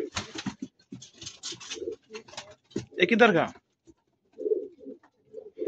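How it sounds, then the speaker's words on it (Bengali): Pigeons of various breeds at a pigeon farm give low, rolling coos, mixed in and between the clear speech of someone talking nearby. "এখানে নানান জাতের কবুতর রয়েছে"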